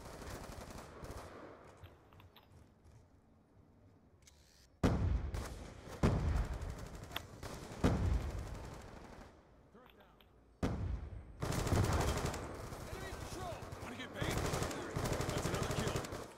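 Gunfire in a first-person shooter video game: quiet stretches broken by loud automatic bursts and rapid shot volleys, with heavy sustained firing near the end.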